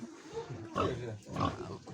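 Pigs grunt and snort in a few short bursts close by, with mild shuffling and background noise between them.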